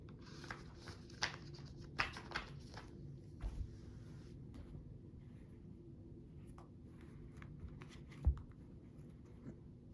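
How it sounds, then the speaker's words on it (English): Tarot cards handled and shuffled at a table for a reading, giving soft scattered paper taps and slides with a few sharper card snaps, close and quiet. "Just putting these cards back."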